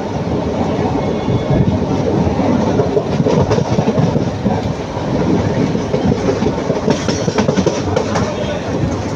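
A train between Coimbatore and Palakkad rolls slowly through elephant forest with a steady rumble and rhythmic clickety-clack of wheels on the rails, loud and close throughout.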